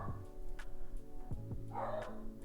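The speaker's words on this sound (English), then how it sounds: "Do y'all hear Miles barking at something" A dog barks a few times in short, sharp bursts at a moderate distance, with a steady hum in the background.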